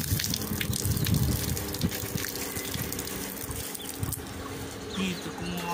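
Water gushes and splashes into a pot to wash rice for pumpkin rice, a close irregular pouring and pattering sound, fairly soft, with no talk over it.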